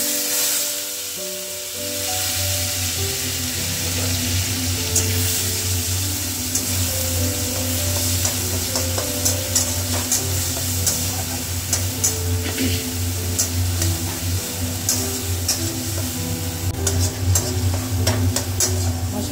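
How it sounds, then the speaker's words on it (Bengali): Spice paste with cumin seeds frying in a pan, giving a steady sizzle and low hum under repeated clinks and scrapes of stirring that grow busier toward the end. "মশলাটাও কিন্তু আমি আস্তে আস্তে ভাজবো"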